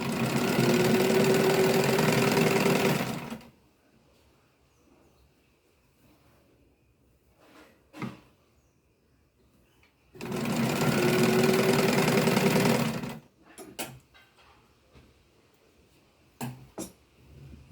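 A sewing machine stitches the sleeve seam of a baby garment in two loud, steady bursts of about three seconds each, separated by quiet pauses with small handling clicks of the fabric.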